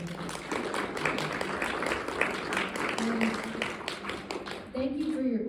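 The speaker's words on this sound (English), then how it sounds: "Can we get a round of applause for our panelists" Audience applause for panelists at a tourism forum in Taos, steady clapping mixed with voices and chatter, moderately loud throughout.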